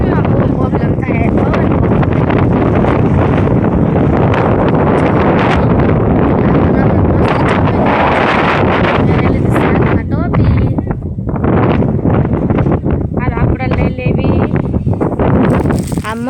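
Strong wind buffets the microphone in an open field during chili seedling planting, a loud continuous rumbling roar that persists throughout, with bits of talk mixed in.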